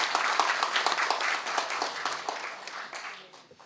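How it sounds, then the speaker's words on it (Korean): Steady audience applause at a Korean academic seminar, welcoming a session chair to the stage; dense, continuous clapping from a seated crowd, moderately distant, gently fading toward the end. "모두 뜨거운 박수로 맞이해 주시기 바랍니다."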